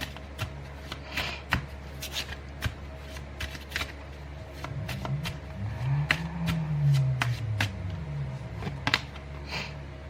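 A deck of tarot cards is shuffled by hand during a reading, giving a run of crisp riffling and sliding card noises with sharp snaps, close and fairly loud, with no talking.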